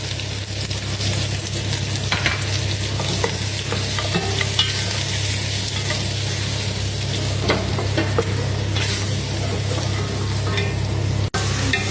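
Goat meat stirred and frying in a pan gives a dense, continuous sizzle close up, with scattered scraping from the utensil and a low steady hum underneath.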